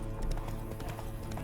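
Roach, the horse in The Witcher 3, clops along with rhythmic hooves under a dense game soundscape, with a brief whinny-like cry mixed in near the start.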